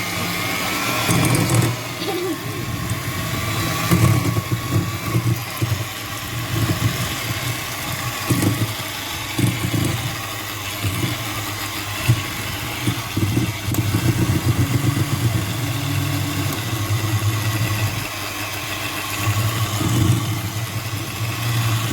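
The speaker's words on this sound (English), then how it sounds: "now we're going to mix the sugar and the butter together" Butter and sugar whirr together in a stand mixer or electric mixer, a steady motor drone with a low hum running unbroken and fairly loud throughout, with no talking, while creaming the base for caramel squares and shortbread.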